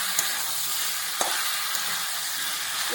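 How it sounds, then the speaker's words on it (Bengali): Duck meat sizzles loudly in a pan as cut new potatoes are added and stirred, a continuous frying hiss with a few sharp scraping clicks from the stirring utensil. "মাংস একদিকে কষা হচ্ছে, আর আমি এই যে কেটে রাখা চারটি আলু দিয়ে দিলাম"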